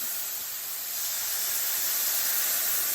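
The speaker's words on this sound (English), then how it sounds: "We're gonna deglaze" Dry white wine hits a hot pan to deglaze it, giving a loud, steady hiss and sizzle that swells slightly over a few seconds with no talking.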